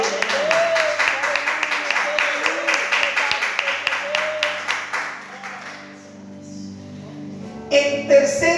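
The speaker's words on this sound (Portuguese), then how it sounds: "Um aplauso para nosso Senhor." Rhythmic clapping from a church congregation during a service, a steady run of claps mixed with voices and tonal sound, fairly loud, then dying away about halfway through before a brief louder burst near the end.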